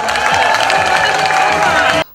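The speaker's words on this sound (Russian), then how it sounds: "Мы открываем этот прекрасный фонтан под ваши бурные аплодисменты" Crowd at the opening of a fountain on a town square applauds and cheers loudly and steadily for about two seconds, dense clapping mixed with voices, cutting off abruptly at the end.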